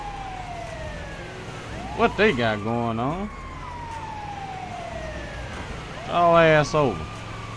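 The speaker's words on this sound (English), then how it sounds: "they see the ambulance coming down the highway" A wailing ambulance siren sweeps up and down in GTA 5, its tone gliding continuously at moderate volume, while someone talks over it in bursts.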